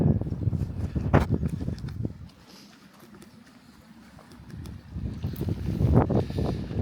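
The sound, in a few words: gusty wind on a fell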